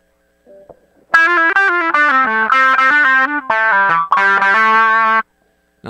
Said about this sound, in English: We'll turn on the filter modulation.